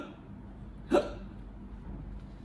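A single sharp vocal hiccup imitates a storybook skeleton's hiccups during a children's story, one brief loud burst standing alone against quiet background.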